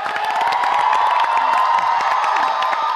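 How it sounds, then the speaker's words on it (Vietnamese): A studio audience at a Vietnamese comedy show cheers loudly and claps for three guests, a dense, steady roar of applause, whoops and shouting that fills the whole moment without pause. "một tràng pháo tay thật to cho ba vị thực khách nào"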